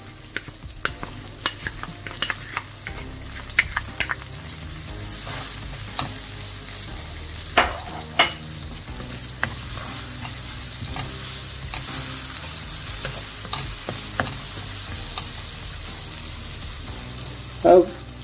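Spring onion and garlic frying in a pan for a vegan lasagna, a steady close sizzle with scattered clinks and scrapes of stirring, and a louder knock near the end.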